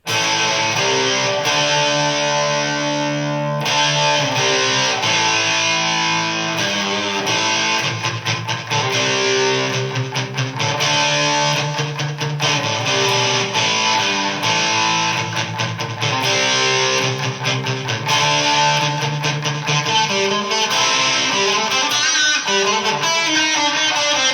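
Distorted electric guitar through a Fender Mustang amp simulation plays chords and riffs continuously, loud and sustained, with a trailing echo-like delay, a little reverb and no voices.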